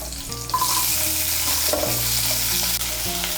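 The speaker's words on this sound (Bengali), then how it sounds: "পেঁয়াজ কুচিটাকে তেলের সঙ্গে মিশিয়ে নেব। মিশিয়ে নিয়ে লাল করে ভেজে নেব।" Chopped onion frying in oil while being stirred, a loud close sizzle with spatula scrapes and clanks against the pan, continuous and without voices.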